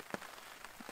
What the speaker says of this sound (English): Rain isn't too bad right now, but it seems like it's gonna be on and off.